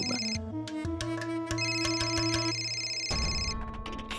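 An electronic phone ringtone plays a bright repeating melody of clear tones, close and steady, with no voices.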